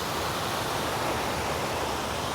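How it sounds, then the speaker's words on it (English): A small waterfall outdoors, producing a constant, dense, hissing roar of falling water that fills the whole clip without pause. "I hope you can hear me over the waterfall"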